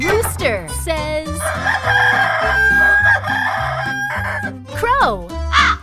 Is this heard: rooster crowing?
yes